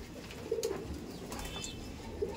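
Racer pigeons in a loft give soft, low coos in a couple of short bursts against a steady background murmur, with no talking.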